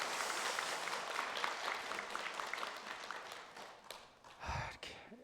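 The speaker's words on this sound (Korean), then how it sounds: "다시 한번 큰 박수로 격려하겠습니다" A church congregation at a Sunday worship service claps for newly baptised children and their families: a soft, fairly distant patter of applause that gradually thins out, ending with a low thump and a brief rustle.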